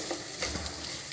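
Hot oil tempering sizzles in a pan as asafoetida is added for a raw tamarind chutney, a soft steady crackle with light stirring scrapes over about a second.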